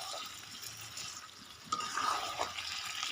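Water pours into a pot of chicken curry in a home kitchen, a soft running splash that grows louder partway through and then trails off with small clinks.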